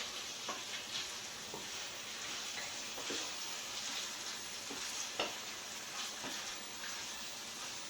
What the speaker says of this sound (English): Chopped meat and onion mixture is coming along nicely.